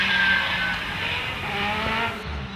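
A 2-litre hillclimb race car at Loton Park's notorious Triangle Bend during a practice run, engine roaring loud and close with a rising then settling pitch, briefly mixed with tire noise as it gets caught out.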